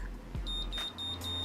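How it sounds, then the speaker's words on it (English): A quick series of high, short electronic beeps from a curling iron, about four in rapid succession, clear and close over faint background noise. "consecutive beeps."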